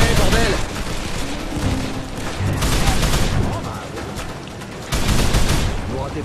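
Rapid gunfire bursts from a firefight at the Los Angeles port in the shooter game Call of Juarez: The Cartel, loud and dense throughout, with voices calling out beneath the shots.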